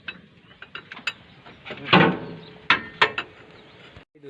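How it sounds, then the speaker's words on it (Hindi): Brake removal on a Swaraj 735 tractor: scattered metallic clicks, ratcheting and clunks of parts being worked loose, fairly quiet and close, with no talk. "हम इसके ब्रेक उतार रहे हैं"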